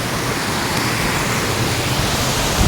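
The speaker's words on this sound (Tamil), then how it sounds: "தண்ணியோட வேகம் வந்து பாருங்கள் ரொம்பவே அளவு அதிகமாக இருக்குது" Fast, heavy stream water rushes steadily on a hill route, a dense, continuous roar filling the whole stretch with no voices, loud and close throughout.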